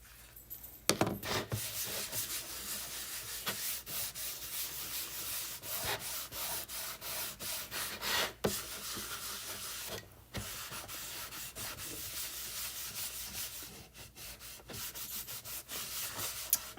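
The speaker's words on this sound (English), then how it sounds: "We are going to wax this because we're going to chalk right on it." Wax is rubbed by hand onto a chalk-painted surface in quiet, repeated back-and-forth strokes. The scuffing is close and soft, with brief pauses between passes.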